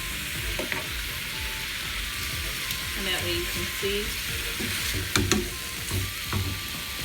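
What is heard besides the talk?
pork ribs frying in pan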